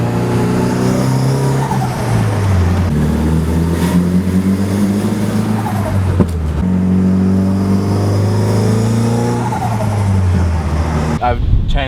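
Nissan S14 car engine revving repeatedly with turbo flutter from a blocked-off blow-off valve, loud rising and falling engine tones with chattering flutter between revs, close by, with a voice speaking over it.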